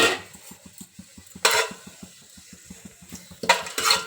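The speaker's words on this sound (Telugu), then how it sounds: "నూనె వేడైనాక హోల్ గరం మసాలాలు మొత్తము వేసుకోవాలి" Whole garam masala spices frying in hot oil in a pot, a soft steady sizzle with light rhythmic clinks and scrapes of a spoon against the pot, plus two louder bursts of stirring or clattering.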